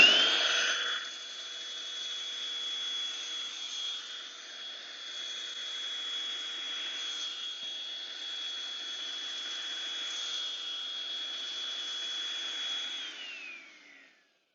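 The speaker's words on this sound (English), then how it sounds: "we'll see if we can vacuum some of the stuff off" A Bissell Pet Hair Eraser handheld vacuum runs steadily over sofa fabric, a constant high motor whine with airy suction hiss, starting with a brief louder burst and cutting off at the end.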